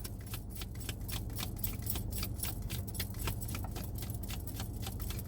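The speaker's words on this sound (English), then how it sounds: "because I'm shuffling, it moves the camera" Tarot cards shuffled by hand close to the camera, producing a steady stream of soft papery riffling and ticking clicks over a low background rumble, with no talking.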